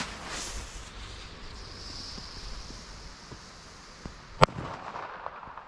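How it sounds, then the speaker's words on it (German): A single sharp, loud Roter Corsair firecracker bang cracks outdoors on New Year's Eve, with a few fainter pops around it over a low background rush. "Roter Corsair, auch sehr laute Böller."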